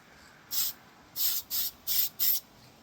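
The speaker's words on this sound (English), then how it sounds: "spraying clear, it's very difficult to see" An aerosol can sprays clear coat onto a Tamiya Bigwig RC car body in five short hissing bursts. One burst comes alone, then four follow in quick rhythm, close and fairly quiet.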